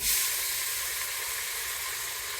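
Onion hitting hot grease in a Pampered Chef Quick Cooker gives a steady, bright hiss that surges at the start and then holds at an even level, with no voices.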